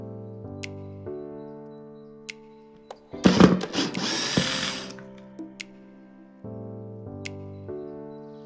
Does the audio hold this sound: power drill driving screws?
yes